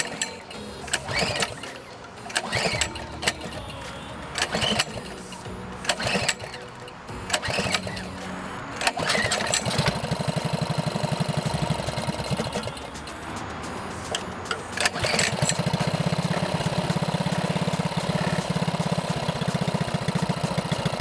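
A loud, harsh mini bike engine runs close by in bursts of revving, then settles into a steady roar near an interstate.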